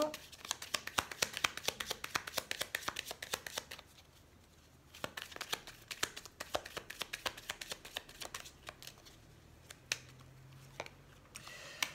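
Tarot cards being shuffled by hand, with rapid, close rustling riffles that come in bursts, pause briefly, then resume in quieter flurries.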